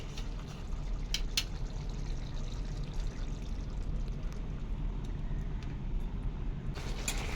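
A thin spice-and-water paste poured into a pot of biryani, a steady low wash of liquid running on and on with a few faint clinks, no voices.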